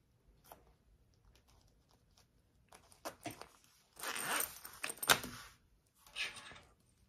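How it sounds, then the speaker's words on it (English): Zipper pulls are fitted onto a sewn zipper panel for a handmade bag, giving quiet scattered clicks and a few short raspy zipping bursts, close and alone. "I'm gonna put on my zipper pulls real quick."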